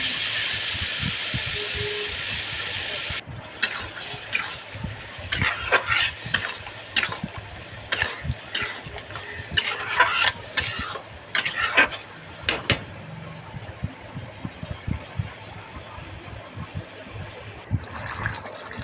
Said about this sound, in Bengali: আর একটু নেড়ে দিচ্ছি।